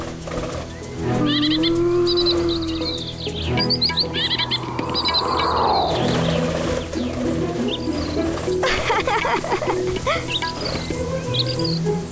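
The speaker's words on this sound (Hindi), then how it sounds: "इतने सुंदर पक्षी।" Birds sing and call close by in a lush setting, a mix of whistled tones, chirps and trills layered over a soft steady background, with no talk.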